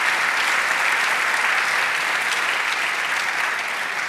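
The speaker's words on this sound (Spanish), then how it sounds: "Ahora de un aplauso, Señor." A church congregation applauds steadily, a dense even wash of many hands clapping at a constant level for the whole stretch, with no voices rising above it.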